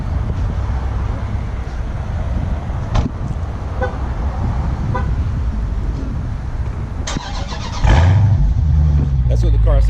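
Voices talk over outdoor background noise, then a 2019 Dodge Challenger Scat Pack with stock exhaust cranks and fires up, settling into a loud, deep rumble near the end.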